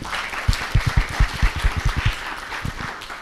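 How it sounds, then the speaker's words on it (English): Audience at a graduation ceremony in a cultural hall in Kampala, Uganda, clapping hands in a loose, uneven burst of individual claps for a few seconds, fairly close, thinning out toward the end. "Could we give them a hand clap?"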